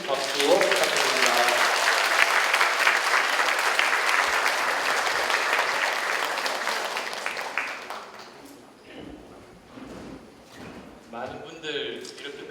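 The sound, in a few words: cheering and big applause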